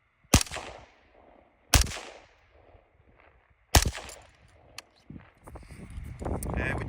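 Suppressed M16A1 rifle fitted with a HEL E4A silencer fires three sharp, cracking shots about 1.5 to 2 seconds apart, followed by a brief echo, then shuffling and handling noise.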